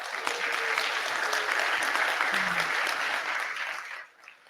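Sustained applause from an audience honoring EPA division directors at an agency event, steady dense clapping that fills the room before fading out near the end.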